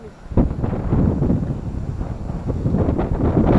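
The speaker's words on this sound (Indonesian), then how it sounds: "Anginnya dingin" Cold wind buffets a microphone outdoors with a steady low rumbling roar that swells and gusts, loud and close, with no speech over it.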